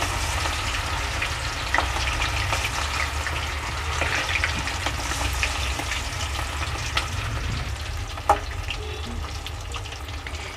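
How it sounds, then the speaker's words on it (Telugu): Quail meat frying in hot oil gives a dense, continuous sizzle and crackle, close and loud, with a few sharper pops and no voices. "ఆయిల్లో వేసేటప్పుడు చాలా జాగ్రత్తగా చూసుకొని వేసుకుందాము"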